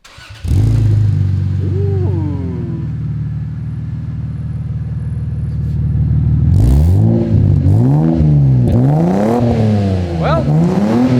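A Toyota Supra Mk4 with a naturally aspirated engine, catalytic converters still fitted and a titanium exhaust idles steadily up close. It then revs repeatedly in sharp rising and falling blips.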